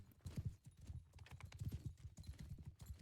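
Horse hooves clip-clop in a video game match: a steady, quick trotting rhythm, faint and continuous throughout.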